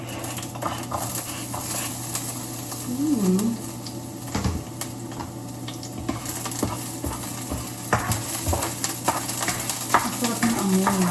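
Vegetables stirred and fried in hot oil in a home kitchen, a continuous close sizzle with scraping and clinks of a utensil against the pan, and a voice speaking briefly at times.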